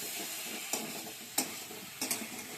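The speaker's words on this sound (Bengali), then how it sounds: "এই যে আলু ফুলকপিটা একদম কষে গেছে, তেল ছেড়ে গেছে মশলা থেকে" Potato and cauliflower pieces fry in spiced oil as a cauliflower roast cooks down, giving a steady soft sizzle broken by a few sharp clicks and taps of stirring.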